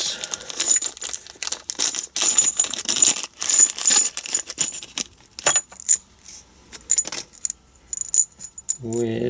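New replacement bolts for an aftermarket synchro gearbox on a Land Rover Defender TD5 clink and jingle metallically as they are handled. The rattles come in repeated bright bursts, close and moderately loud, with no talk.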